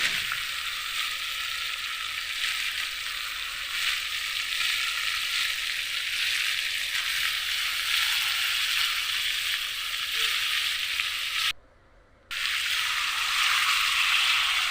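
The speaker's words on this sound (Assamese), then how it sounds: "তেতিয়া তেলটো ওপৰলৈ উঠি তেতিয়া আলুখিনি দিয়া হৈছে।" Potatoes frying in hot oil in a home kitchen, a steady close sizzle that carries on evenly, cut by one brief gap near the end.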